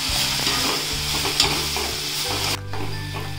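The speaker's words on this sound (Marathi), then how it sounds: "गाजर चांगले परतून घेते," Grated carrots for gajar halwa are stirred in ghee in a kadhai, with a steady close sizzle and scraping stirring strokes that briefly dip near the end, over quiet background music.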